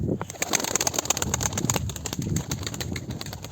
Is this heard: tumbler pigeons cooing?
yes